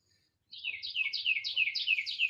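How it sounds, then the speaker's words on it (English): Birds sing outdoors in a bright, quick run of repeating chirped phrases that starts after a brief silence and continues steadily, fairly close and clear over a faint low rumble. "Great bird singing soundtrack."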